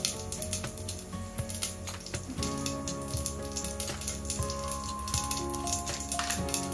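Cumin seeds sizzle and crackle in a hot pressure cooker, a steady close-up frying hiss with popping bursts, laid over a continuous tonal background hum.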